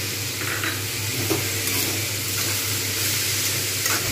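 Pumpkin chhenchki with salt and turmeric being stirred in a hot pan, a dense continuous sizzle and hiss with soft scraping strokes, close and even throughout.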